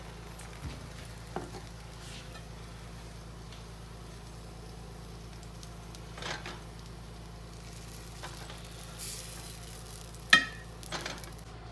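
Pancake batter sizzling softly in a pan over medium heat, a faint steady crackle with a few scattered clinks and scrapes, no talking.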